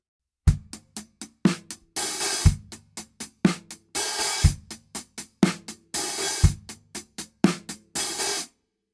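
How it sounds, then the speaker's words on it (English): A steady 16th-note drum groove with kick and snare hits and a hi-hat opened too early, its washy sizzle ringing out repeatedly between tight closed ticks. "What you want to avoid is opening the hi-hat too early"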